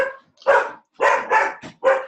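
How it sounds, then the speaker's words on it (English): A dog barks in a series of five or six loud, close barks in quick, uneven bursts with short gaps, with no voices over them. "And the dog will be quiet now."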